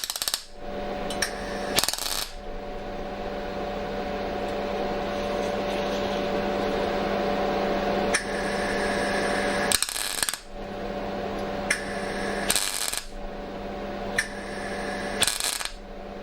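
Tack welding on the handle of a Vevor portable compressor fridge: a steady buzzing electrical hum broken by several short, sharp crackling bursts at irregular intervals, close and moderately loud, with no talk.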